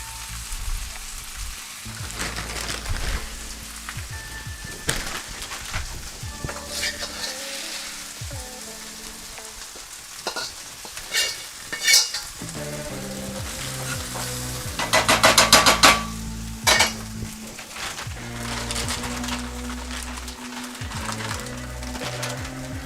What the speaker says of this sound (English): So I'm adding all of this to my skillet,